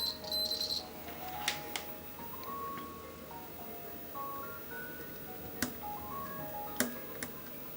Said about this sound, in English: This is a multimeter I swiped from work because it beeps.